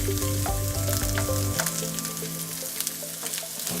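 Red onion frying in a pan beside vegetarian sausage: a bright, close sizzle with crackles, and a droning hum in the opening second and a half.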